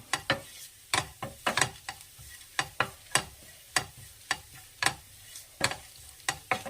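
Grated coconut mixture for banana-stem thoran roasts dry in a pan, heard as a steady run of sharp scraping stirring strokes with light sizzle between them, close and clear with no talk.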